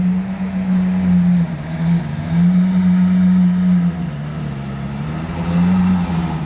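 A Ferrari 812 GTS fitted with a Novitec exhaust holds a loud, steady engine drone close by, with the pitch dipping and rising slightly a few times.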